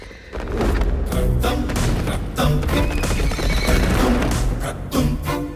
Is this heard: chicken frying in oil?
no